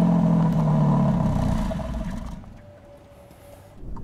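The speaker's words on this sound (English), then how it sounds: "I was a bit disappointed with the exhaust noise out the back when" A 2021 Alfa Romeo Giulia Quadrifoglio just after start-up, its exhaust giving a fairly loud low engine rumble with mechanical clatter that gradually fades to a subdued idle, nearby and without talking.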